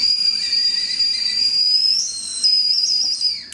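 A high, shrill whistle from a whistle candy is blown steadily for about two seconds, breaks off briefly, then sounds again with a slight wavering pitch.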